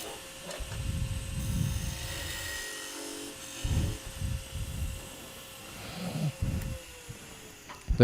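A skew chisel cuts a spinning wooden piece on a lathe, giving repeated soft swishing and scraping passes over a steady low motor hum, close up.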